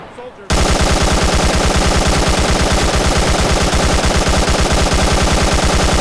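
Loud, rapid automatic gunfire from the video game Arma 3 starts abruptly after a moment of quiet and continues as one sustained, evenly spaced burst to the end.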